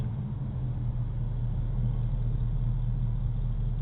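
A car engine with loud exhaust pipes rumbles steadily and deeply, a heavy low drone that stays even and fairly loud throughout with no voices.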